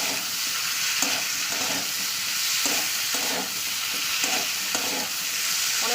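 Bitter gourd frying over a high gas flame, stirred vigorously with rhythmic spatula strokes over a constant loud sizzle, close and without speech.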